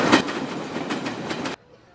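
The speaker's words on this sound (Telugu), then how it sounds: "వెనక ట్రైన్ పాస్ అయ్యే సౌండ్ వచ్చింది" A train passes behind a phone call somewhere between Chilakaluripet and Bapatla, a steady rumbling, clattering roar with rhythmic wheel clacks that cuts off abruptly.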